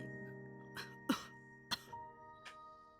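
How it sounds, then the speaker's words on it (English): An old woman in a visual novel game falls into a coughing fit: several harsh, close coughs in irregular bursts, one hoarse and strong, over soft sustained background music. "Mother Elder lapses into a coughing fit."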